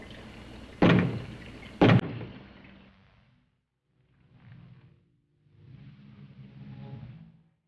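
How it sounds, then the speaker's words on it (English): Two loud knocks sound in quick succession from inside a closet in a 1962 horror film, sharp and close, followed by quieter low rumbling sounds. "Knock twice if I'm not the first."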